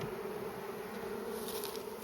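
Honey bees buzz in a steady, dense hum throughout a spring hive inspection, close and unbroken, with no voices.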